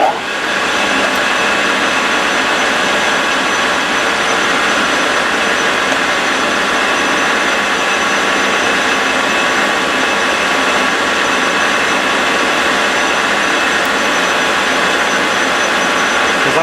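A lathe spinning at high RPM takes a shallow skim cut along a slightly tapered shaft during a gearbox rebuild, a loud, unbroken whirring roar that holds steady throughout with no talk.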